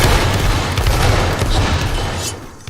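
A massed musket volley in a Napoleonic Waterloo battle game, a dense, continuous roar of many shots blending together loudly for a few seconds before trailing off.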